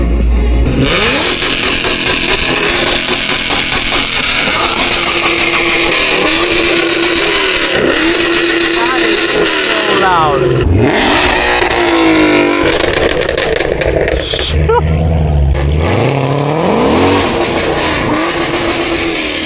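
A performance car at a Florida cars-and-coffee meet revs hard and loud, its engine roaring, rising and falling in repeated bursts across a long stretch, with a brief spoken word from a nearby onlooker.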